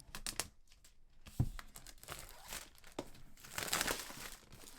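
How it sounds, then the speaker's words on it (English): Plastic wrap is peeled and torn off a 14-inch MacBook Pro box, a close series of soft crinkles and sharp crackling rips in irregular bursts. "Unlike the new iPhones, the MacBook box still comes in a plastic wrap."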